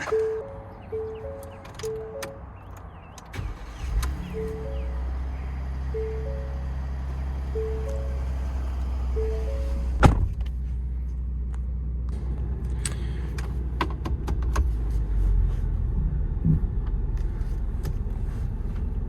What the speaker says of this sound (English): I was gonna crank this F-150 up